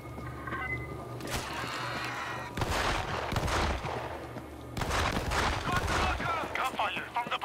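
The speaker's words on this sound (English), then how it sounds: "Gunfire from the bus" Gunfire from a bus in the video game World War Z, Tokyo level: bursts of rapid shots arrive in loud clustered volleys, separated by short lulls, with game ambience and brief bird-like chirps underneath.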